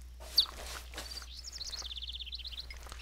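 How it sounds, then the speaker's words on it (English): Sparrows in a video game giving a quick run of bright, rapid chirps, a fluttering repeated twitter after a few scattered taps, fairly faint and alone. "Bye-bye, sparrows."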